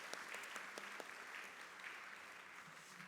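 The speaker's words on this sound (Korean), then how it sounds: "우리 한 번 더 환영의 박수 보내드리겠습니다" A church congregation at a Sunday worship service claps in welcome of a new family, steady, fairly faint applause with a few sharper individual claps standing out.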